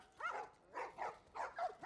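Several dogs in The Last of Us Part I bark in four or five quick, yappy bursts at moderate distance, the barks fairly faint and spaced unevenly over a quiet background.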